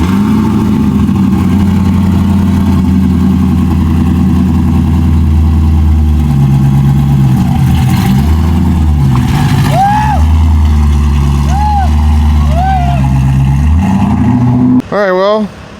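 A drift car engine runs loud and close, idling with rises and falls in revs, while voices talk over it.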